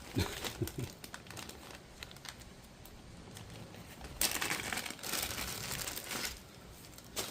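A glossy sheet of paper from a dash cam box crinkles and rustles as it is handled up close, in uneven bursts with a louder crumpling stretch near the end.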